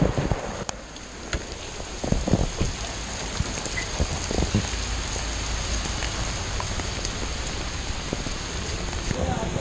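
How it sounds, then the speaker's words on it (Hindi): Heavy rain pours steadily outside the Hard Rock Cafe in Sector 26, Chandigarh, a dense, constant hiss of drops striking surfaces close by, with a few sharper patters and no voices over it. "बाहर अभी फुल बारिश हो रही है गाइस"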